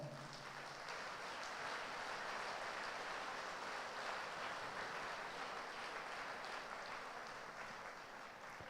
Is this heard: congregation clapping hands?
yes